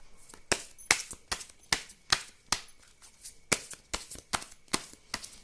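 Tarot cards riffled and shuffled by hand in a quick, uneven rhythm of sharp papery bursts, close and alone with no talking.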